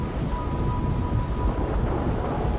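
Rain and thunder in the video game Wuthering Waves, a steady dense rainfall with a low continuous rumble of thunder, even and unbroken with no voices.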